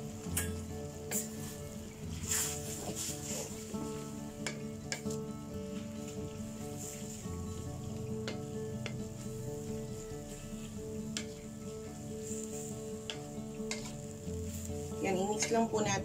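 Shirataki noodles stir-fried in a pan for a low-carb pansit with broth, sizzling and frying steadily throughout with occasional clicks of utensils against the pan, loud and close.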